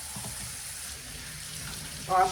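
Cold tap water runs steadily over raw chicken cutlets in a kitchen sink, a continuous soft hiss and splash that rises briefly louder near the end.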